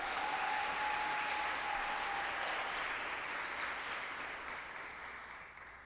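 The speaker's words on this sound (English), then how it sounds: "Could we give her a round of applause?" An audience at an eighth grade graduation applauds a guest grandmother, a full, even wash of clapping that holds steady and then gradually fades toward the end.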